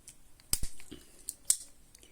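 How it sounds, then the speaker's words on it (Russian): Small scissors on a Victorinox Voyager pocket knife snip a few times, with two sharp, close cuts standing out among lighter clicks in a quiet room. "Далее идут ножницы, также замечательного качества."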